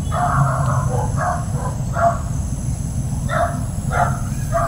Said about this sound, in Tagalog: Nag-iingay po yung aso ko